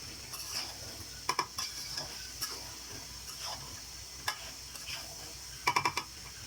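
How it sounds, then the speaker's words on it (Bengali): Chicken cooking with jackfruit seeds is stirred and sautéed in a pan, a low, steady sizzle broken by scattered spoon taps and scrapes, with a quick cluster of clinks near the end and no talking. "মাংস ভালো মতো কষাই ঠিক আছে"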